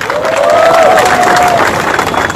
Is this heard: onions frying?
no